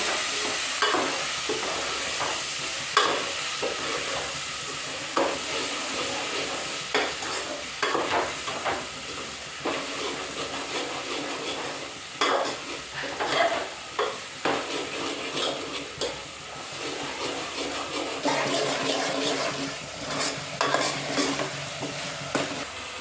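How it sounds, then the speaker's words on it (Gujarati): Tomatoes stirred into a sizzling pan of sakariya (sweet potato) curry with asafoetida and turmeric; steady frying hiss throughout with repeated scraping stirs and occasional utensil clinks, close and fairly loud, no talking. "ટમેટા, મિક્સ કરી નાખી દઈએ."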